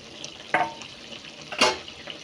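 Small fish dropped into a frying pan of cooking beans, two short sizzling bursts about a second apart, each fading into a soft crackle, fairly quiet and close.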